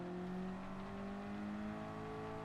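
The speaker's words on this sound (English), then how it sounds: "Just gonna make sure the car is pointed absolutely arrow straight when I get on the gas all the way." A race car accelerating hard in the Gran Turismo 7 racing game on PS4, a steady loud engine drone with sustained tonal whine, alone without talk.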